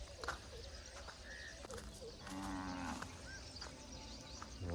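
Cows mooing in a farmyard, a few drawn-out calls over a busy background of shuffling, knocks and distant chatter.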